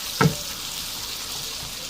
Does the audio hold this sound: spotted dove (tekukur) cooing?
no